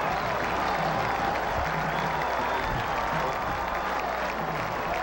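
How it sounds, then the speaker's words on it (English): Football stadium crowd roaring after an Arkansas State touchdown against Middle Tennessee in the 2012 Sun Belt Championship, a loud, continuous wall of cheering and applause that stays steady throughout. "just listen to the crowd"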